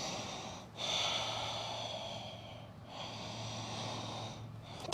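Deep, audible yoga breaths close to the mic, three long airy inhale-exhale cycles at a steady rhythm with short pauses between, no talking.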